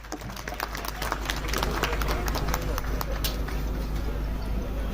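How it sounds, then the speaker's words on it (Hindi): Dense, steady applause from an audience at a public address fills the whole stretch, with a voice faintly audible underneath. "जोरदार तालियां बजा दीजिए।"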